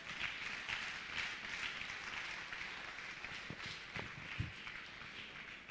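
Congregation applauding during a church sermon, a steady wash of clapping from many hands heard at a distance, fairly faint and sustained throughout.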